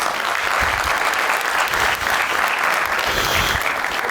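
Loud, dense applause fills a studio audience on a comedy show, continuous clapping close up with no break.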